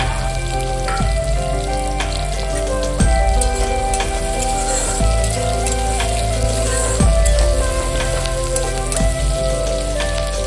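Continuous sizzling of chopped garlic frying in hot oil, with periodic soft scraping or stirring thumps every couple of seconds.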